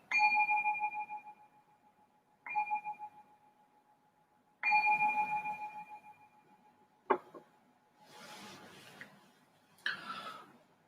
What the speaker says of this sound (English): I'm just going to ring this bell to signal the start of the meditation